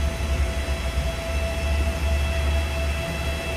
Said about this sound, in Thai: ขบวนเด่นชัยนะครับกำลังเข้ามาชานชาลาที่3